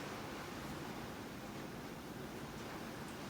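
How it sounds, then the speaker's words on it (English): Heavy rain pouring down outdoors makes a constant, dense hiss that stays level and quiet with no breaks. "It started raining pretty badly."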